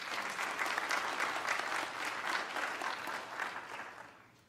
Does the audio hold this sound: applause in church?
yes